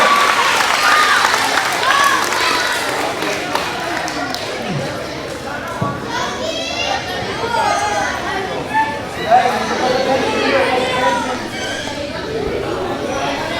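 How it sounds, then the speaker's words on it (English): A crowd of children at a school Red Ribbon rally claps steadily for several seconds, the applause broad and continuous, with chatter and someone talking over it. "Give them a round of applause."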